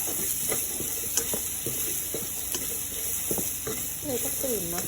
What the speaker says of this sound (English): First, saute onion with pepper. Mix butter in a pot.